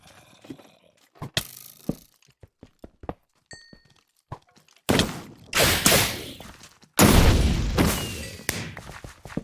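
A creeper in a video game blows up: quiet footsteps and small thumps give way to two loud, booming explosion bursts, each followed by a rumbling decay.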